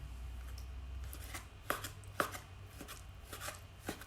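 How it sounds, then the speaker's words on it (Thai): Knife chopping chicken on a cutting board, several sharp irregular thuds up close, fairly quiet over a low background rumble. "หั่นไก่หั่นไก่"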